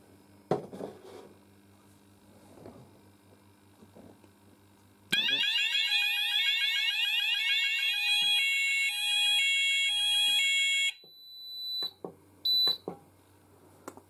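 A fire alarm sounds during a test of an ESP detector system, with a loud, continuous electronic tone that holds for about six seconds and then stops. Quieter clicks and beeps come before and after it.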